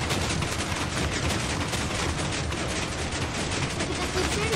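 Rapid, dense gunfire from shooting in the video game Minecraft, a continuous loud crackling barrage that fills the whole stretch without pause.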